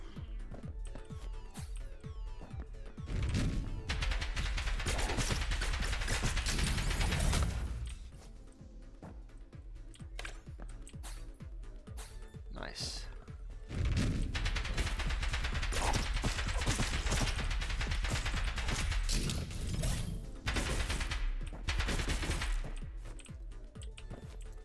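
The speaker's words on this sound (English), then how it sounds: "That's right, it's the air cannon." Air cannon firing in the video game Neon Abyss: dense, rapid bursts of punchy shots layered over game music, two long loud barrages separated by a quieter stretch of music, no talking.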